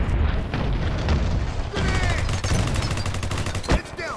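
Grenade blasts and gunfire in the first-person shooter Ballistic Overkill: heavy booming explosions and rapid bursts of shots, loud and close, crowded together over several seconds and ending in a sharp final bang.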